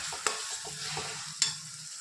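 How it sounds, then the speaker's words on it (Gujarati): Onions and tomatoes frying in a pan with a soft, steady sizzle while a spoon stirs them, giving two sharp clinks against the pan. No one speaks. "પાછું બધું હલાવી અને થોડી વાર માટે ચડવા દઈશું"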